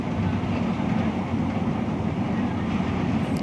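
LRT1 light rail train riding on the line toward Monumento, a steady loud rumble of wheels and car body from inside the carriage with faint clickety-clack, no talk.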